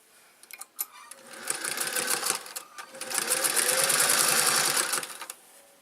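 A sewing machine stitches an apron in bursts, its rapid mechanical whir starting and stopping before settling into a steady, close run, with no talk over it.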